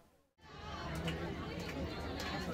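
A large crowd of devotees chattering at Bageshwar Dham: a dense murmur of many voices. It cuts out briefly near the start, then returns as a steady, moderately loud babble that continues to the end.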